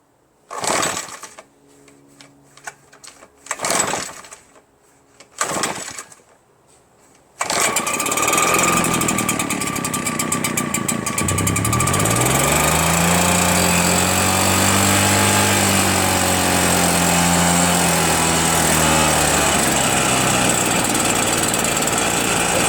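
Troy-Bilt TB70SS 33cc gas weed trimmer with a new piston and rings, a few short pull-start bursts and then a loud, steady high-revving two-stroke buzz held at full throttle, close up.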